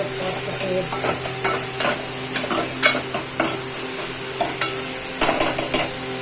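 Food sautéing in a pan, a steady close sizzle under repeated scraping and tapping strokes of a spatula stirring at an uneven rhythm, with no talk.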